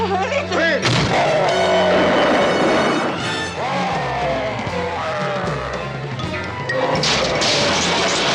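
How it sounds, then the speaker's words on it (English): Heavy smashing and crashing as the Hulk bursts through a wall in The Incredible Hulk, a dense run of loud impacts and debris with dramatic music and shouting voices mixed in. "The Hulk takes down the other guy, then smashes through a wall"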